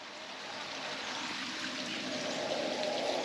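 A river flows steadily with a broad rushing, trickling wash of water during a hike crossing, heard up close and constant with no talk.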